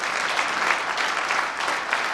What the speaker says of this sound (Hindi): दमदार तालियों सबसे पहले तो